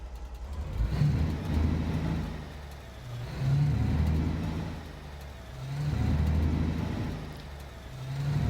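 A truck engine drones in Alaskan Road Truckers on a long road haul after a broken radiator, swelling and fading in slow waves, steady and close, with no talk over it.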